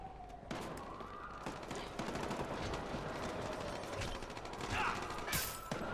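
Rapid gunfire in a video game shootout during a police patrol, bursts of automatic shots and mechanical clatter crackling throughout, loud and dense.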